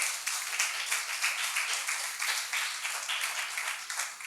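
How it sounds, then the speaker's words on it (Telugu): A church congregation claps steadily during a Sunday service, a dense, fairly uniform wash of many hands lasting the whole moment, without speech over it. "చప్పట్లు కూడా దేవుని స్తోత్రం చెల్లించండి"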